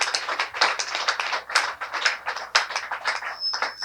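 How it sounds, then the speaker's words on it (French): A group of women at an anniversary celebration for a women's mutual-aid association applauds, with lively, uneven clapping that swells in waves and keeps a steady pace. "acclamez pour vous-même encore une fois"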